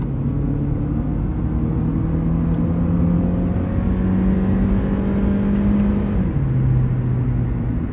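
A modified Honda Civic's engine hums and revs steadily from inside the cabin, with a sustained drone that shifts pitch near the end as gears change via paddle shifters.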